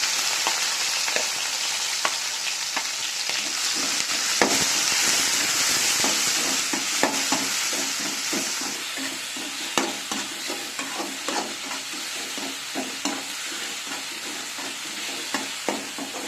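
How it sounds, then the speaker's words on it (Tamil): Onions added to garlic and curry leaves frying in oil for a Tamil cumin kuzhambu, a loud close sizzle that hisses hard at first and then settles, with frequent stirring scrapes and clinks and no talking. "இப்போ வெங்காயம் சேர்க்கிறேன்."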